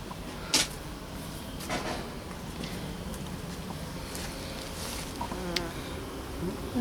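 Honeybees hum around a garden allotment hive with a steady, moderately faint buzz, as individual bees fly close past now and then, in an outdoor setting.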